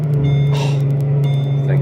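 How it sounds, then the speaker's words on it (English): A car idling steadily after a cold start, its strong low engine hum constant throughout, with a brief hiss-like burst partway through and faint beeps in the background. "about to start up the car right now"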